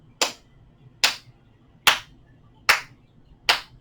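Five crisp hand claps at a steady, slow pace keep count during chair yoga breathing practice, each clap close and distinct against near silence, with no voices in between.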